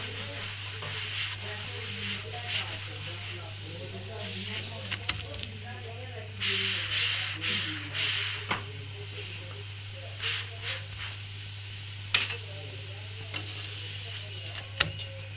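Makki ki roti made from maize flour sizzles and fries on a hot tawa as oil goes on, a steady soft hiss over a low hum, broken by scraping strokes and a few sharp clinks.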